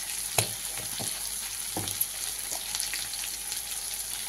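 Coriander-cumin powder and ginger paste frying in oil with bottle gourd and prawns, a steady close hiss with a few soft spoon knocks against the pan.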